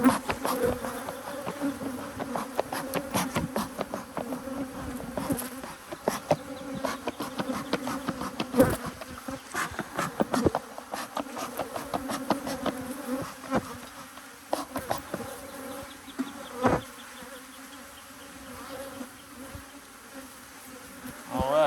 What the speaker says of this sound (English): Grumpy bees this morning.